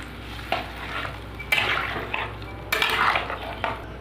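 Water goes into a pan of fried cumin paste for a potato and green-banana curry. Close bursts of sizzling hiss come and go alongside scraping stir strokes against the pan.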